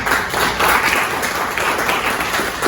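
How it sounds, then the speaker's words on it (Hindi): An audience at an ALTOS LDP and diamond celebration program breaks into loud, sustained applause, a dense wash of clapping with no pauses. "ताली लगाना इनके हार्डवर्क के ऊपर।"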